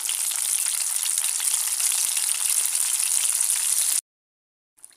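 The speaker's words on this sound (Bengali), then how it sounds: "তেলের তাপমাত্রা দিতে হবে একদম মাঝারি মাঝারি আছে দিয়ে আপনার দশ থেকে বারো তেরো মিনিটের মতো এরকম করে আপনাকে এটাকে ফ্রাই করতে হবে" Chicken pieces fry in oil at medium heat, giving a dense, steady, even sizzle for about four seconds. It then cuts to near silence with one faint crackle.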